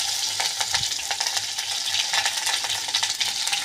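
Mustard seeds, green chillies, dried red chillies and onion fry in hot oil for pumpkin-leaf greens, a steady close crackling sizzle with stirring clinks throughout and no talk.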